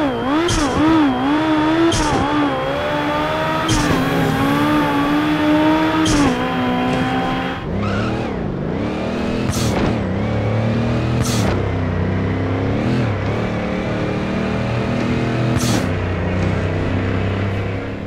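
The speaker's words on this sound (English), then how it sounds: "the engine sounds are a bit of a mixed bag" Loud racing car engines in a Fast and Furious racing video game, revving and shifting through gears, pitch climbing and dropping repeatedly, with sharp transient bursts between shifts and no talking.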